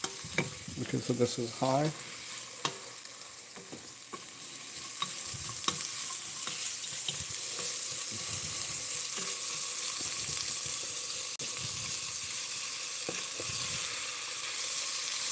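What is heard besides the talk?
food sizzling in a pan, stirred with a wooden spoon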